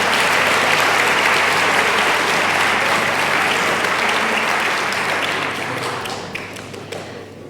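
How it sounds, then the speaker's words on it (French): Sustained audience applause for the Palais des Congrès staff at a high-school pleading competition, a dense, loud wash of clapping that holds steady and then thins out toward the end. "Applaudissements pour les équipes du Palais des Congrès."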